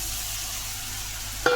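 Onions go into hot oil, already mixed with ginger-garlic paste and green chilli paste, in a pan used to fry pointed gourd. A steady close sizzle runs throughout, ending in a brief bright metallic clink.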